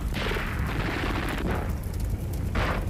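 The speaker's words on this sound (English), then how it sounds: "an ammunition truck exploded in a massive blast" An ammunition truck blowing up in a massive blast amid a wartime tank battle: a dense, continuous roar of explosive rumble with repeated booming bursts, loud and close, with no voices.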